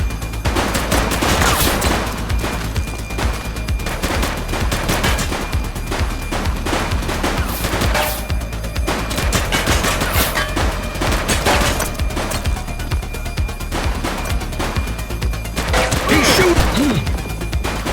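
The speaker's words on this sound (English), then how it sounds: "Light them up! Shots fired!" Police shootout in the video game The Precinct: sustained heavy gunfire with rapid overlapping shots, cracks and impacts throughout, loud and constant with occasional heavier bursts, no talk heard.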